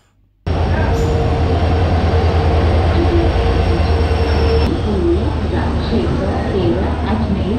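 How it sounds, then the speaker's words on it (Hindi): Passenger train 19613, the Amritsar Express from Ajmer, arriving at a platform on the Jaipur to Amritsar route: a loud, continuous rumble of rolling wagons with wheel squeal and rhythmic rail clatter, starting abruptly after a moment of quiet. "उन्नीस छः सौ तेरह ट्रेन प्लेटफार्म पर आ रही है"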